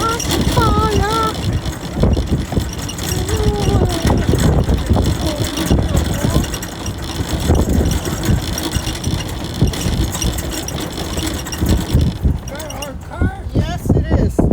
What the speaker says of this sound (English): Windy and cold.